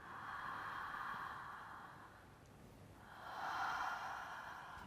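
Circular connected breathing with no pause between inhale and exhale, one long breathy exhale easing into a deeper, louder inhale, steady and close.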